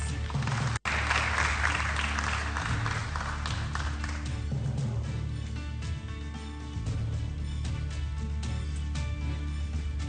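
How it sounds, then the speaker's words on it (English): A crowd at a Nairobi election debate applauds as an independent candidate is called to the stage, steady broad clapping with a sharp click early on, gradually thinning. "You can give them a round of applause"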